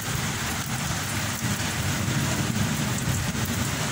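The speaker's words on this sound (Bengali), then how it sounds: "মুষলধারে বৃষ্টি পড়ছে।" A heavy downpour of rain, with a loud, steady, dense roar of drops hitting surfaces that holds evenly throughout, and no voices.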